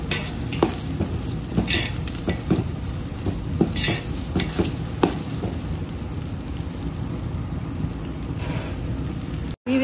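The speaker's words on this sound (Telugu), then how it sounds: "ఈ విధంగా ఫ్రై చేసుకుందాం అన్నీ కూడా." Tomatoes frying lightly in a pan for coconut-milk coconut rice, with a continuous close sizzle under frequent spatula scrapes and clicks throughout, no voices.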